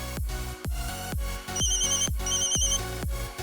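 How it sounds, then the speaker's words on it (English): Electronic phone ringtone from a video game mod, a repeating melodic pattern of bright synthetic tones with short ringing chimes layered in the middle, loud and close with no voices. "I have prepared two types of ringtones."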